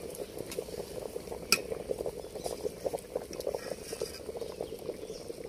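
Water with rice bubbles in a pot for vegetable fried rice. Heard close, the boil makes a steady rolling burble with a few small clinks, and no one speaks over it.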